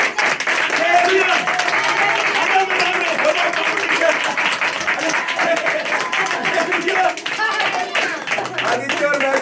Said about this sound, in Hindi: यही ताली सबसे तेज है